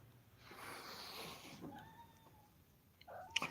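A mother cat with her fluffy kittens gives soft wheezy, snorting cat sounds, faint and close, with a brief high meow-like cry near the end.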